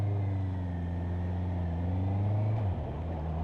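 A motorcycle engine idles with a steady low rumble in first gear at traffic lights, then dips in pitch as it begins to pull away, heard close and continuous without speech.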